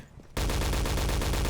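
Gunfire from a semi-automatic weapon in a Source engine first-person shooter: after a brief quiet start, a loud, dense run of rapid shots erupts and continues without a break.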